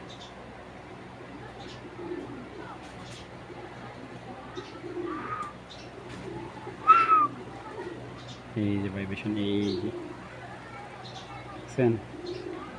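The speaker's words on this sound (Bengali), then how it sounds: "এটা হলো অরিজিনাল রবিডের পাঙ্খি কবুতর" A pankhi pigeon, army or cumin-coloured, gives a few low throaty coos near the middle while someone talks close by over a quiet background.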